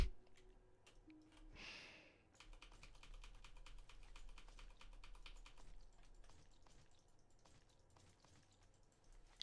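Rapid clicking on a computer keyboard with mouse clicks mixed in, a quiet close-up patter of keystrokes running continuously, with a brief breathy rustle early on.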